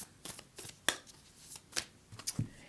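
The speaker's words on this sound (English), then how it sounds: "So I'm going to pull a Soul Truth card" Tarot cards are shuffled and a single card drawn, giving a few quick dry riffles and flicks spaced across a quiet moment, close and fairly soft with no talking.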